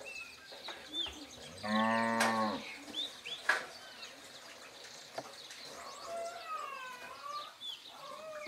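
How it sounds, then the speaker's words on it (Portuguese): Cows moo loudly on a small Brazilian farm as calves are separated from them, one long, strong moo in the foreground followed by quieter moos, with chickens clucking and rural background noise. "Separando as vacas agora dos bezerros, para deixar os bezerros de um lado"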